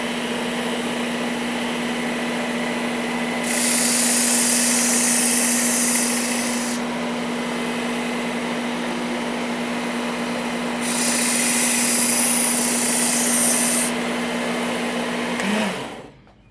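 A motorized knife sharpening machine set at 20 degrees works a Western 640 fixed blade knife, a steady electric whine and hum with two long stretches of louder hissing grinding as the blade is drawn across, then the motor winds down.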